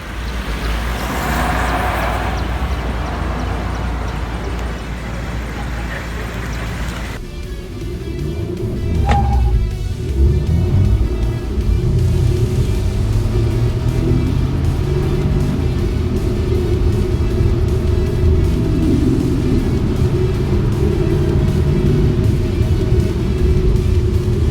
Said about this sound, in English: I'm gonna test drive the Proton X50 around the circuit